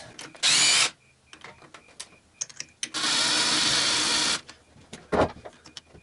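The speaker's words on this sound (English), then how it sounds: "now I can start loosening that up with electric impact" An electric impact wrench loosens top-end engine bolts on a Honda XR250R motorcycle. It fires in two loud bursts, one short and one lasting over a second, with a quieter blip afterward and mechanical clinks between.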